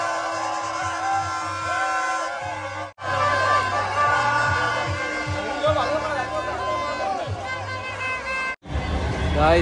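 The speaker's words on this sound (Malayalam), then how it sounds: "ഇവിടെ ഫുൾ ആൾക്കൂട്ടം ബഹളം" A packed football stadium crowd at a Kerala Blasters versus East Bengal ISL match in Kochi roars with loud, continuous cheering, whoops and chatter; two brief dropouts break the noise, which swells again right after.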